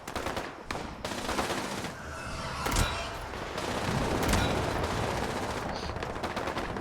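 Quad explosive harpoon gun fired in Fallout 76, a loud burst of rapid shots with explosive booms layered over sustained rumbling gunfire.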